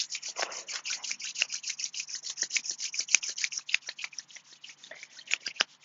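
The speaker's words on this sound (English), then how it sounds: "And then rub your palms together." Palms rubbing together during a new moon yoga session, a close, soft, steady swishing friction with rhythmic strokes and no talking.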